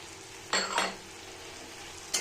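Spices for egg curry, salt with Kashmiri chili and turmeric, sauté in a pan as two short scraping stirs cut through a faint, steady sizzle, followed by one more brief scrape.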